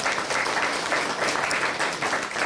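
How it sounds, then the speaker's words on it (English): Audience at the London Ambulance Service annual public meeting giving a round of applause, a steady, full wash of clapping held at even loudness throughout. "I would like us to give a round of applause to the London Ambulance"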